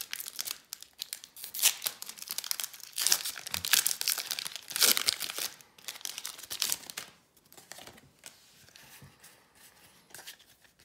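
Pokémon card booster packs being opened up close, with loud crinkling foil wrappers, sharp tearing and rustling in irregular bursts that gradually quieten toward the end, no talking.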